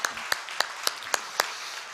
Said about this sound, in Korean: 우리 교육자들 박수 한번 쳐주면 좋겠어요